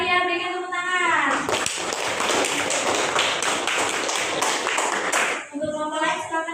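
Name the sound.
schoolchildren clapping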